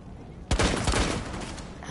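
A sudden loud gunshot in Rainbow Six Siege cracks out, then a quick rattle of further shots follows and fades into a noisy tail, with no talk over it.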